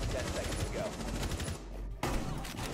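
Rapid bursts of video game gunfire in a shooter match, crackling volleys over a busy in-game background with a brief cut near the end.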